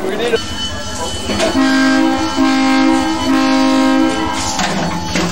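An Adirondack Centennial Railroad tourist train runs on its last run in November 1993, sounding its horn in several long blasts over rumbling rail noise, with people talking around it.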